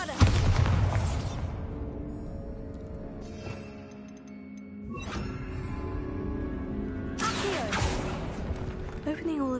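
Bombarda spell detonating in Hogwarts Legacy inside a tomb, a loud booming blast at the start followed by rumbling debris and further crashing bursts, with a voice speaking over it.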